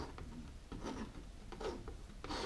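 Palette knife scraping oil paint across canvas while painting a lavender field, a series of short, faint rasping strokes close by, with no talk.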